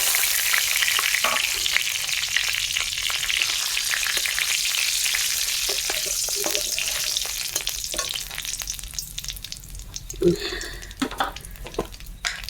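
Bay leaves and dried red chillies crackle and sizzle loudly in hot oil, a dense frying hiss that thins into sputters and clanks of a spoon against the pan later on.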